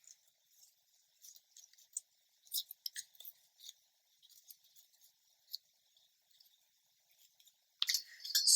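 Scissors cut ribbon in a quiet room, giving a series of faint, crisp snipping and clicking sounds spaced irregularly, with a louder snip at the end.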